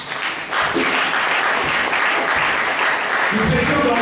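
A church congregation applauds during a Sunday worship service, a dense, steady wash of clapping that carries loud and continuous throughout, with low voices and shouts mixed into the crowd.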